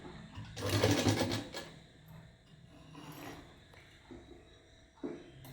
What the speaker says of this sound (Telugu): ఇలా పెట్టుకొని దీన్ని కూడా ఇలా కుట్టు వేసుకోవాలి